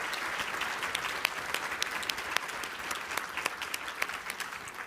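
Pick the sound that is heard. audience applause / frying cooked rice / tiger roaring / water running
audience applause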